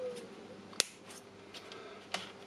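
Scissors cutting thin nickel plate for a Milwaukee M18 battery repair, two crisp metallic snips about a second apart, quiet and close.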